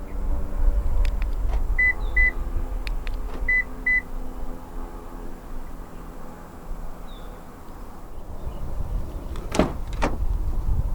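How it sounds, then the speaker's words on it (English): A 2023 Perodua Alza 1.5 X key fob unlocks the doors: two pairs of short beeps sound close by, followed later by sharp clunks of the door locks. "Press the unlock button once to unlock the driver's door, and press it a second time to unlock the rest of the car."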